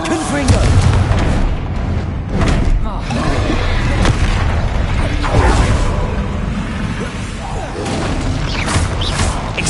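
Confringo fire-blast spell in Hogwarts Legacy combat on PS5, heard as a dense, continuous roar of booming blasts and whooshing bursts with rumbling low end, loud throughout with shouted voices mixed in.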